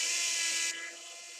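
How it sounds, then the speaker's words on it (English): A model railway wheel cleaner runs on a small test track with a steady, high, whirring buzz. It drops to a softer, lower hum partway through. Close, continuous, with no voices. "I have a nice little wheel cleaner that sits on top of my little test track here, and there we go, it cleans the wheels for me"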